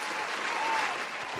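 A crowd claps steadily, a dense wash of many hands applauding at once, fairly close and even throughout.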